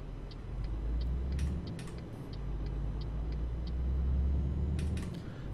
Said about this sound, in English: Wow, this is really nice to drive. This is very, very nice to drive, this truck.